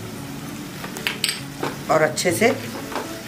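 Mutton keema with ginger-garlic paste being stir-fried in a pan, with scraping spoon-on-metal clinks and a low sizzle under a few spoken words.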